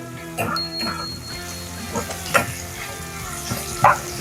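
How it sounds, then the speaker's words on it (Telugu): Onions dropping into hot oil for a light fry, with stirring scrapes and soft bursts of sizzle recurring every second or so against a steady low crackle, close up. "ఆయిల్ వేడైన తర్వాత ఆనియన్స్ వేస్తున్నా ఇప్పుడు వీటిని లైట్గా ఫ్రై చేసుకోవాలి"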